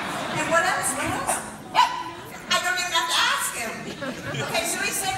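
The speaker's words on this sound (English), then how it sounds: "He's a total theater dog now." A dog barks and yips in short bursts on a theater stage at a Sunset Boulevard curtain call fundraiser, mixed in with steady talking and crowd noise.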